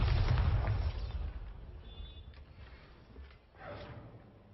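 Bombarda blasting spell from the game Hogwarts Legacy: a loud, booming explosion burst at the start that rumbles and fades over a few seconds, followed by a quieter second whoosh.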